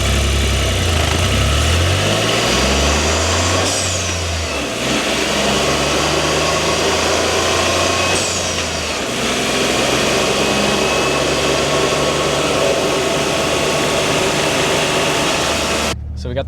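A Toyota GR Corolla engine with its stock intake running under an open hood, a steady, loud low drone with slight shifts in pitch that cuts off near the end.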